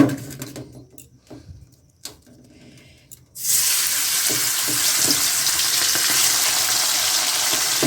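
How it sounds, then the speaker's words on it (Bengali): Small pieces of chicken drop into a kadai with ginger garlic paste. After a few quiet knocks, a loud, dense, continuous frying hiss starts and holds steady to the end. "চিকেনটাকে একদম ভালো করে ভেজে নেব যাতে কাঁচা না থাকে"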